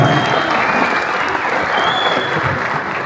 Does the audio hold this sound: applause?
yes